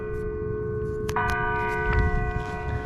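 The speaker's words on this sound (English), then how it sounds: "Church bells." Church bells ring at 6 p.m. as a steady, sustained tolling over a low background rumble, with a couple of clear strikes standing out near the middle.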